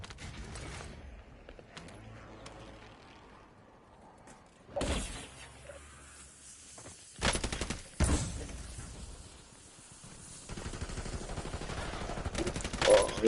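Intermittent automatic gunfire in Call of Duty Warzone, with short loud bursts and scattered shots at varying distances, mechanical clanks between them and a steadier rattle building toward the end.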